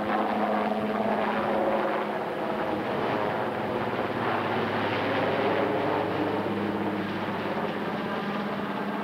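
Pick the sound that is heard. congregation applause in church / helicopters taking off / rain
helicopters taking off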